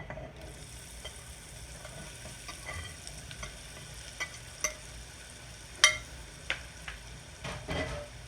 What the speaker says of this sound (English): now I'm going to throw in all my falafel into here and fry it